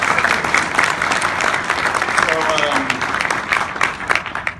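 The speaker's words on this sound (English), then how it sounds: "let's clap for that" A convention panel audience for The Shannara Chronicles applauds in a loud, sustained burst of clapping with a few sharper claps standing out.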